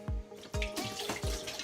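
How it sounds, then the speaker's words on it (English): Tap water running into a beer glass and spilling over its sides, splashing and gurgling at close range with quick irregular drips and pours, no voices. "put it in, just fill it up, let the water run over the sides"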